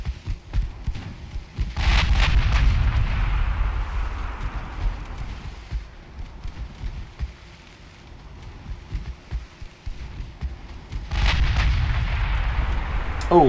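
Naval artillery from Ultimate Admiral Dreadnoughts booms in two heavy salvos, each a deep rumbling blast with a sharp crack at its front, separated by several seconds of low, rolling rumble.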